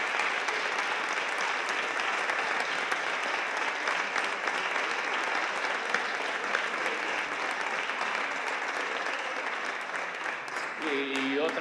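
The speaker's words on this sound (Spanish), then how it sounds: "Un gran aplauso para usted, Dolorino, como se lo merece." A large crowd applauds steadily and loudly, a dense wash of clapping that keeps going the whole time before tapering slightly at the end.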